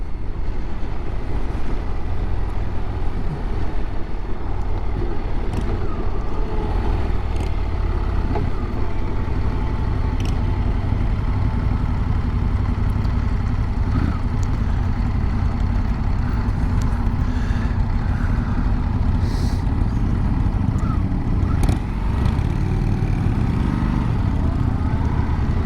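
A Triumph T120 motorcycle engine runs steadily after starting, a continuous low rumble and drone held at a constant level throughout, with no talk over it.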